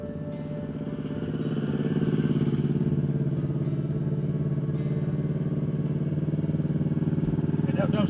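Motorcycle engine held steady in a long wheelie on the road, a continuous loud rumble that swells over the first two seconds and then drones evenly, heard from a nearby car.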